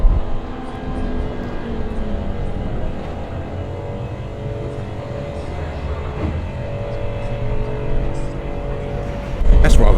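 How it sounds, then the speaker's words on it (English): A Ferrari races around a circuit during a club racing weekend, its engine a steady loud drone that builds near the end as the car comes closer, with crowd noise and voices underneath. "But it does sound good. Ooh, lovely Ferrari."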